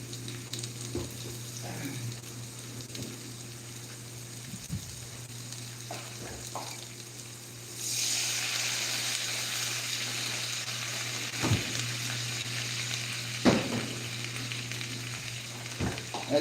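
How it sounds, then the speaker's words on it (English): White wine poured into a hot pan of shrimp for deglazing sets off a sudden loud, steady sizzle partway through, replacing a quieter simmer with occasional stirring clinks. "I want to deglaze a little bit."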